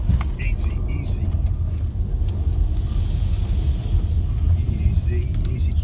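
A car rumbles steadily as it drives through a burning forest, its engine and road noise filling the cabin while anxious people talk over it.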